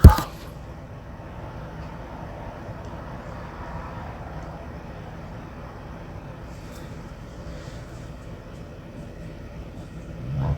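A steam locomotive pulls away toward a freight yard, heard as a steady, fairly quiet rumble of rolling rail noise that holds evenly throughout, with a louder burst at the start and a slight rise near the end.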